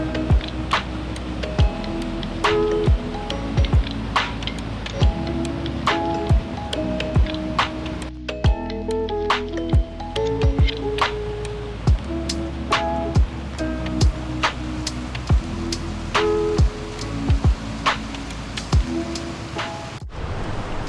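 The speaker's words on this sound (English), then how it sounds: "So we've captured the falls, Venford Falls" Venford Falls, a waterfall on Dartmoor in Devon, sends up a loud, steady roar of rushing water heard up close, with frequent sharp clicks and ticks scattered throughout.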